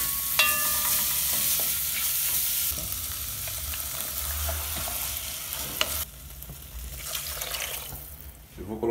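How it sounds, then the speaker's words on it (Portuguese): Sauce tipped into a hot pan of garlic and onion for hot dogs, a loud steady sizzle and bubbling up close that drops sharply partway through, then carries on quieter. "Aí depois a gente vai jogar nosso molho."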